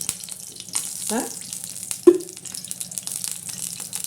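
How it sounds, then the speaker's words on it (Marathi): Oil poured into a hot kadhai (wok) while making shepu (dill) bhaji with peanuts, heard as a steady hissing sizzle with a few brief clatters and a short sharp knock, close by and fairly quiet. "आता बघा आपण ही कढाई ठेवलेली आहे कढाईमध्ये आता आपण तेल टाकणार आहोत"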